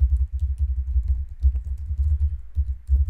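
Typing on a computer keyboard while entering a config setting: a steady run of fast, close key taps with brief pauses, heard alone with no talk.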